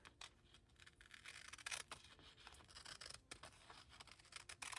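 Scissors cut open a paper page for a junk journal with faint, close, irregular snips and crisp paper scratches over several seconds, with no talking.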